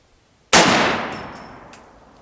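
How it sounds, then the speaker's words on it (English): A single loud, sharp gunshot from a .44 Magnum firearm aimed at a target, a close crack followed by a long ringing decay, with nothing else around it. "What target are you shooting at?"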